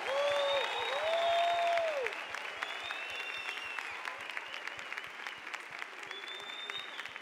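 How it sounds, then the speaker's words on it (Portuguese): Steady clapping from a group of people at a Eucharistic prayer night in church, continuous and moderately distant, with sustained musical tones and a regular beat running underneath. "Pode aplaudir o Senhor com toda alegria."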